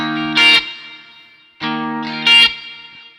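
Electric guitar chords ring out twice with reverb and delay, each strum swelling and trailing off in echoing repeats; no voices.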